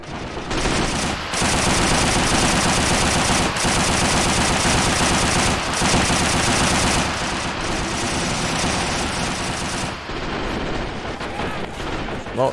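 Sustained machine gun fire with overlapping bursts and heavy gunfire in a World War II battle in the Men of War: Assault Squad 2 video game, loud and continuous for most of the stretch before easing near the end.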